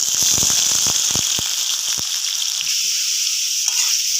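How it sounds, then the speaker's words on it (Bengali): Cut potatoes frying in hot oil in a wok, a steady loud sizzle throughout with sharp spattering crackles early on that thin out to a smoother hiss. "এবার আমি কেটে রাখা আলুগুলো দিয়ে দিচ্ছি, ভেজে নেব।"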